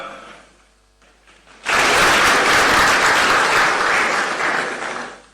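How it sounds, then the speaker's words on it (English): Audience applause erupts as guests, including a board member, walk onto the stage at a CEO Excellence Award ceremony, starting abruptly after a quiet moment and holding loud and steady to the end. "A round of applause as they come."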